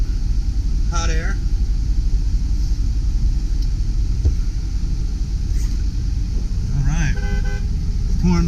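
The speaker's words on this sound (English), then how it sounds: "Horn works." A 2003 Ford E450 passenger bus sounds its horn in two short toots, one early and one near the end, over a steady low engine idle rumble close by.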